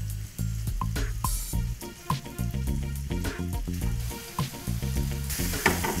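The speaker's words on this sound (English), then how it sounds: "I'll let the shrimp cook 2 to 3 minutes per side" Shrimp frying in a hot pan for Thai shrimp, a dense continuous sizzle with crackling pops and low bubbling, close and steady with a few clinks from turning the pieces.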